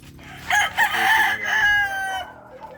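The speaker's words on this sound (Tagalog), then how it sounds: "Diyan po kasi sa likod, may mga manok." A rooster crows loudly and nearby, one long drawn-out cock-a-doodle-doo that rises, holds and trails off.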